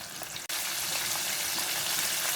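Steady, close sizzling and crackling of chicken nuggets deep frying in hot oil, continuous apart from a split-second dropout near the start.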